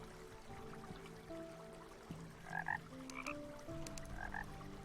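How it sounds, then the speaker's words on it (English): Frogs croak in the video game Terraria, a few paired croaks near the middle and end standing out over a soft underground ambience with sustained game music tones. "I'm actually hearing frogs down here."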